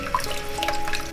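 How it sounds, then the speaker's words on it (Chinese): Running water from a tap splashes steadily as mud is rinsed off iron-stick yam in a sink, a close, continuous trickle and splatter with no talk. "铁棍山药我们先给它清洗掉泥沙，"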